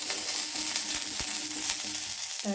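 Panch phoron spices and vegetables fry in hot mustard oil, giving a loud, steady sizzle with crackling pops and a few scraping stirs, close by and without speech.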